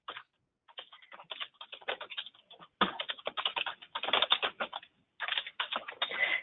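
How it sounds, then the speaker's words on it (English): Someone types on a computer keyboard at close range, with rapid bursts of clicking keystrokes broken by short pauses. The typing is heard alone, with no talking. "Sorry for the typing sound,"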